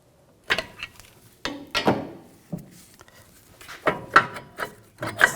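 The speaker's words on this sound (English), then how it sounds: "I'm just taking a straight blade screwdriver. I'm just going to compress the caliper slightly." Scraping, clunking metallic knocks as a straight blade screwdriver pries and compresses a front brake caliper on a 2006-2010 BMW 550i, several short irregular bursts close up with quiet gaps between.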